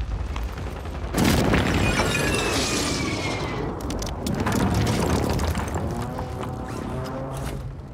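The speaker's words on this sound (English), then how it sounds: "Hostile airstrike near your location." Airstrike explosions in Call of Duty Warzone hit in a heavy, roaring barrage after a quieter opening, with rumbling booms and crackling debris continuing loud and close for several seconds.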